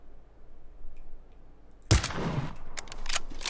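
A single sharp gunshot cracks out loudly in PlayerUnknown's Battlegrounds on the Sanhok map, followed by a dense burst of rapid gunfire and action noise, after a quiet lead-in.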